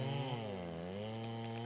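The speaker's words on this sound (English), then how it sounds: "Ah, my chainsaw backed up again." A chainsaw in the video game FiveM (GTA V) cutting trees on a mountain drones with a steady buzzing engine tone that dips and recovers in pitch under load, loud and close with no talk.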